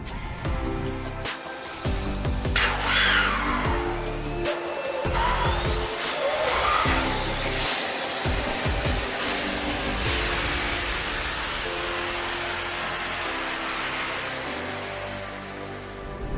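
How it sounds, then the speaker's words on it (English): An F-22 Raptor's auxiliary power unit starts up with a steadily rising turbine whine that climbs in pitch and then holds at a high, continuous tone over a loud rumbling roar, close by. "Once the pilot is in the seat, he's going to fire off the APU."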